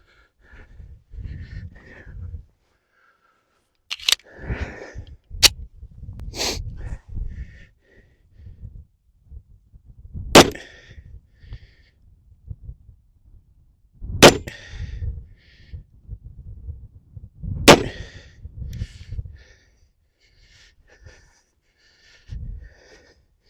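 Pistol shots from a Tisas MAC JSOC 1911 fired at 7 yards, loud sharp cracks spaced apart: a cluster of about four early, then three more single reports, with rustling and breathing between.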